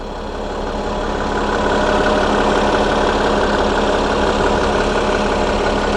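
A Cummins ISL diesel idles inside a 2008 Gillig LF30 28-passenger transit bus, a steady, loud, even rumble that holds unchanged for the whole stretch with no talk over it.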